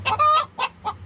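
Rooster in a backyard chicken coop giving a short series of loud, close clucking calls, three or four bursts in quick succession with no talk over them.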